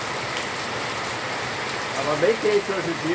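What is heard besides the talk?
rain falling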